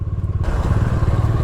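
Motorcycle engine droning steadily on a Spiti Valley mountain road in Himachal, India, with a continuous low rumble and wind noise that grows fuller partway through.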